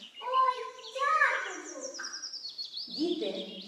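Small bird in a fairy tale, chirping and tweeting in bright, high, warbling calls, close and clear, with a childlike voice mixed in.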